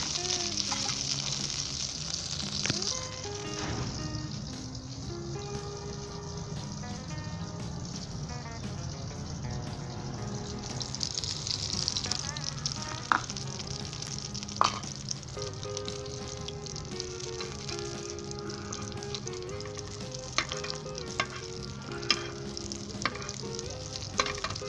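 Shami kebab patties fry in a pan for a burger, giving a steady, close sizzle with crackling pops throughout, while soft musical tones sit underneath.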